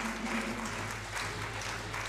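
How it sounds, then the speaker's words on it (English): Audience applause for a donor at a land surveying division annual seminar, a steady wash of clapping with a low hum running underneath, fairly quiet and distant throughout. "oh please, let's clap for him."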